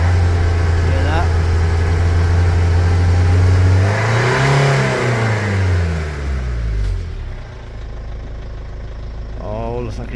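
Van engine with a suspected fuel injector problem, idling close and loud, then revved once so the pitch sweeps up and falls back, with a rough, uneven tone as it settles to idle again.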